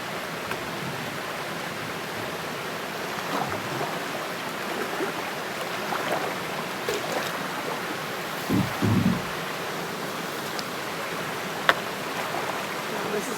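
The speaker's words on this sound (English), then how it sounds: "Ooh, lots of waterfalls." Waterfalls on a river in Zec Kipawa rush in a steady, full roar of falling water heard from nearby, with a few soft thumps along the way.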